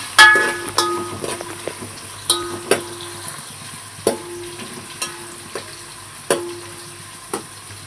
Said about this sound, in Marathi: थोडंसं खरपूस भाजून घेऊया.